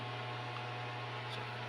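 A small exhaust fan runs steadily inside a homemade DIY egg incubator, producing a continuous low hum with a faint airy hiss, close and unchanging throughout, with no other sounds.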